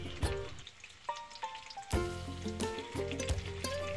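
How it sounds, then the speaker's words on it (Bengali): Potato pieces frying in hot oil with salt and turmeric for a pork kosha curry, a steady crackling sizzle with scattered sharp pops and occasional utensil clinks, close and continuous with no voices. "এখন আমি আলুর টুকরোগুলোকে লবণ এবং হলুদ দিয়ে একটু হালকা লাল করে ভেজে তুলে নেব"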